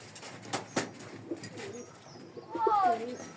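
Pigeons cooing inside an enclosed pigeon house on a farm, several soft low coos overlapping, growing louder toward the end, with a person talking nearby.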